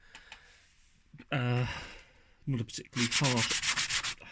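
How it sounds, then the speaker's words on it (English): Hand sanding on a hard plastic wheel trim from a Nissan Almera N16, in short rubbing strokes, with someone talking over it. "literally just doing a bit of sanding in these particular areas"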